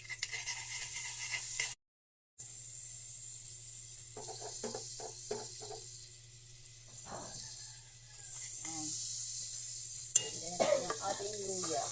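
Oil and margarine sizzling in a pan for Filipino mussel soup, a steady hiss close by with a brief dropout, scattered scraping stirs and a short voice near the end.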